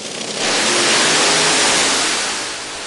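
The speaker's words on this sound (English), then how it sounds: "Engines roared at Pacific Raceways in Kent, Washington, as National Hot Rod Association drivers anxiously wait for their chance to race down the track." NHRA drag racing car engines revving at Pacific Raceways in Kent, Washington, a loud, continuous roar that swells after a brief start and eases slightly toward the end, with no talking.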